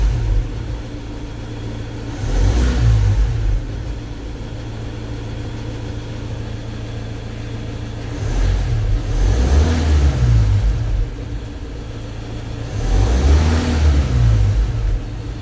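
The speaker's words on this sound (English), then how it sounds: "Now the engine is in normal operation and there is no need to wear out the car starter." A 2017 Ford Transit engine runs after a fuel filter replacement, idling with a low steady hum and revving up three times in spaced bursts before settling back each time, recorded close by.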